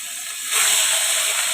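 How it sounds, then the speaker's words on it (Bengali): Fish slid one by one into hot oil in a Bengali home kitchen for rohu fish curry, a steady broadband hiss that jumps louder about halfway through and holds as a continuous sizzle, with no talking. "তেল দিয়েছি, তেলটা গরম হয়ে গেছে। এখন মাছগুলো একে একে ছেড়ে দিব।"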